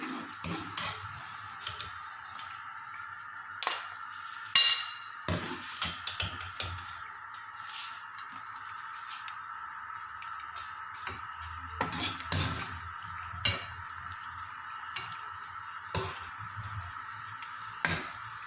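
A spoon scooping chicken korma from a cooking pot, giving soft wet squelches and occasional metallic clinks against the pot, close and unhurried over a steady kitchen hum, with no talk.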